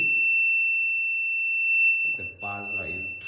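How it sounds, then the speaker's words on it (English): A smart water dispenser's buzzer alarm rings as a continuous, piercing high-pitched tone throughout, and a voice briefly talks over it near the end. "The buzzer is triggered."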